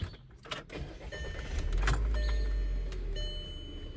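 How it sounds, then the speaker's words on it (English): A Volkswagen Passat is started with its key: a brief jangle of keys and clicks, then the engine turns over and settles into a steady low rumble, heard up close inside the car. "I'll just take the key out, start the car again"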